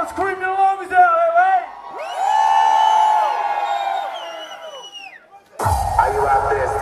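A crowd at a hardstyle concert in Los Angeles screams and cheers loudly in sustained swells, with whoops rising over the roar near the end.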